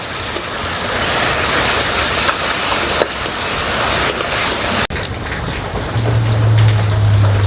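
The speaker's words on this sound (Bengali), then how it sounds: "এটা একটু ভেজে নেব।" Crushed ginger and garlic sizzle in hot oil in a pan, a dense, loud, continuous crackling hiss with a brief clatter partway through.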